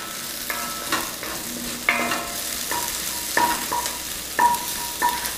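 Chopped black plums cooking in a pot with onions and garlic, giving a steady low sizzle broken by several distinct stirring scrapes and clanks at irregular intervals, fairly close.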